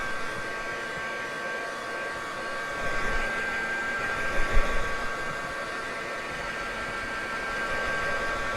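A heat gun blows hot air in a craft setting, giving a steady, close, whooshing hiss of airflow that runs continuously throughout with a few faint knocks and no voices.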